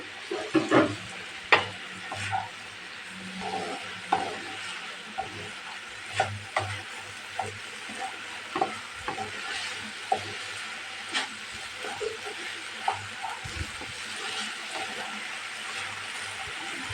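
Flat beans fry in a pan for a shim bhaji, sizzling steadily while a utensil scrapes and clatters through them in irregular, repeated stirs.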